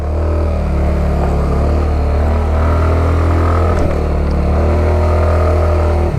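Motorcycle engine running steadily as it rides a badly broken, deeply rutted dirt road toward Dingalan; a constant low drone with no speech.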